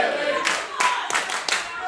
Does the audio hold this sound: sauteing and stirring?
no